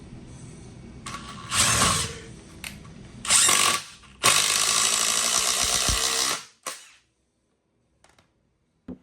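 A Ryobi 18V ONE+ HP brushless 1/4-inch impact driver drives a bolt into pre-drilled wood in three bursts, short hammering spurts then a long rattling run, ending in a few faint clicks and silence.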